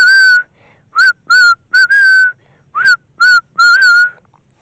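A melody whistled close and clear as a chant during a Kundalini yoga practice, in short separate phrases with brief pauses between notes, a bright solo whistle with no voices.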